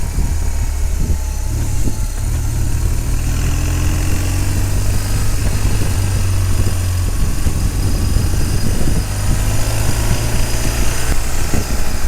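Steady low engine rumble from a motorcycle, idling and running evenly throughout with faint wind and road noise on top.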